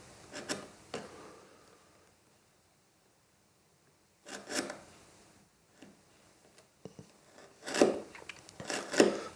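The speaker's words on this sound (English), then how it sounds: "So I'm elevating the chisel a little bit, just taking out the waste and leaving a nice crisp shoulder." A hand chisel pares waste wood from a shoulder while a friction-fit pencil case is made, giving short scraping bursts near 0.5 s, 4.5 s and 8 s, with quiet gaps between them.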